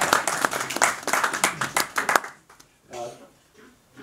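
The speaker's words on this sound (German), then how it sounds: "Ein Applaus oder so." A small audience at a talk gives a short burst of lively clapping that stops abruptly after about two seconds, followed by a speaking voice in a quiet room.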